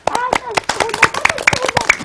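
A small group claps for a nine-year-old girl receiving a certificate, with quick irregular claps mixed with speaking voices.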